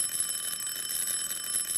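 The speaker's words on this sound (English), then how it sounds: "When a patient needs to call a nurse, they ring a bell at the side of their bed." A patient's nurse call bell in a hospital video game rings continuously with a bright, shrill electronic tone, steady and fairly loud throughout with no voices.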